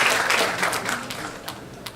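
Audience at a Korean university engineering talk concert claps to welcome a speaker, a loud burst of applause that gradually thins into scattered claps.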